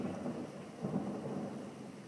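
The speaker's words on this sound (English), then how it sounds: "that thunder very much like what's happening right now" Thunder rumbling through a strong thunderstorm at a home in Hoover, Alabama, with steady rain beneath it; a low, continuous roll that swells slightly near the middle, no voices.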